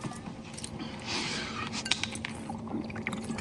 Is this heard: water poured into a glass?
yes